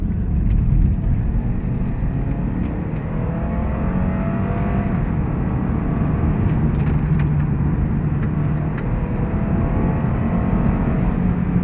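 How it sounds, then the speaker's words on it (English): A 2016 Lexus IS 200t F Sport's 2-liter turbocharged engine accelerating steadily under load, heard from inside the cabin as a continuous loud drone with some road and wind noise and no talk. "it doesn't really sound any different from any other 2-liter turbo"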